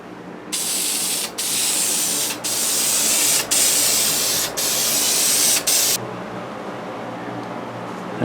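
Rust-Oleum clear gloss sprayed from an aerosol can onto W126 Mercedes-Benz S-Class wheels, a loud steady hiss broken by about six short pauses between passes, then quiet.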